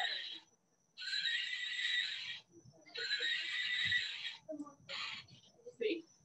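A person vocally imitates a horse whinny in several drawn-out, high squealing bursts with short gaps between them, fairly close and clear, during a class about besom brooms.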